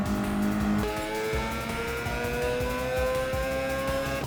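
Race car engine and tires at Road Atlanta in Gran Turismo 7, a loud continuous high-revving whine pushed near full throttle, with a quick gear change early on and rising pitch as it accelerates.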